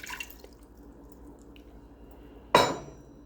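A brief splash of water strikes a small metal saucepan near the end, a short bright burst that fades quickly after a stretch of quiet kitchen room tone.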